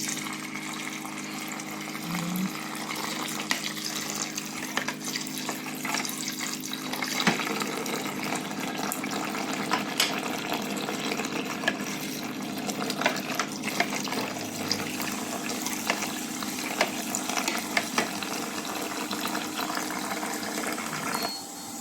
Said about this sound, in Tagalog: Lagyan natin siya ng sabaw guys